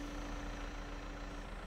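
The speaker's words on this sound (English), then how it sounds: "I'll just pull the tractor around" Tractor engine running steadily in Farming Simulator 22, a continuous low rumbling hum at even volume with no talk over it.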